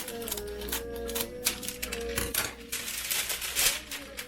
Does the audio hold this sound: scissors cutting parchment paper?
yes